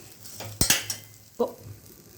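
Wild mushrooms frying in a pan for curry, a soft sizzle under a few quick clinks and scrapes of a spoon against metal, with short bursts of stirring.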